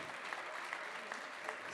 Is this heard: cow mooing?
no